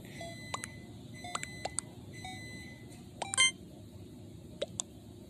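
A microwave oven gives several short, high electronic beeps, some in quick pairs and clusters, quiet against a low background hum.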